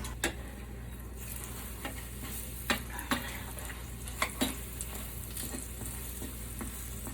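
Bannock dough cooks in a pan on a stove turned down to medium heat, giving a soft, steady sizzle with sharp scattered pops and crackles. Faint low hum sits beneath, with no voices.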